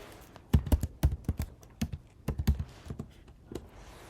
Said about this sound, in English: So I type here.